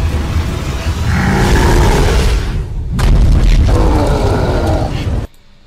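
A gas tank explodes in a Resident Evil 3 Remake game trailer, two loud roaring blasts with rumbling low rush that cut off abruptly into near silence.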